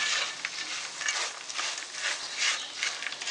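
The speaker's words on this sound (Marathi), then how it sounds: "सर्व जिन्नस आपण छान मिक्स करून घेऊया।" A spoon steadily scraping and stirring salt, white sesame seeds and sugar into chivda spice mix, a continuous dry rustling with rhythmic pulses, close and alone.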